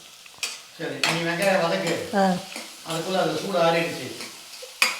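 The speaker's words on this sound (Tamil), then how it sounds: "வெங்காயம் வந்து நல்லா வதங்கணும்" Onions fry in a pan for tomato salna, a soft sizzle and occasional stirring clinks running underneath someone talking throughout.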